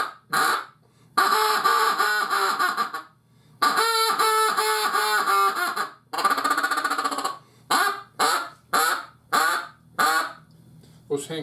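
A homemade lathe-turned wooden duck call with a soundboard and reed gives a series of loud, close, raspy quacks, starting with long drawn calls and ending in short rapid hand clucks, played alone.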